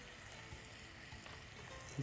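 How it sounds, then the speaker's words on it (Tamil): Chopped onions and green chilies sauté in oil in a pan, giving a soft, steady sizzle with light stirring and a small clink near the end, close and fairly quiet, with no talking. "இதை வதக்கிட்டு இப்போ பச்சை மிளகாயம் போட்டுறேன்"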